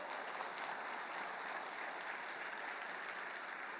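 A church congregation applauds during a Spanish-language sermon, producing a steady, dense wash of clapping that stays even and moderately distant throughout, with no voices standing out.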